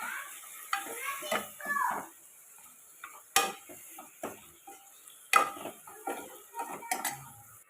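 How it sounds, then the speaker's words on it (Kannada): Goat leg pieces mixed into masala in a pan, with intermittent spoon scrapes and sharp metallic knocks against the vessel at an irregular rhythm, close and quiet between strokes. "ನೀಟಾಗಿ ಮಿಕ್ಸ್ ಮಾಡ್ಕೊಬೇಕು"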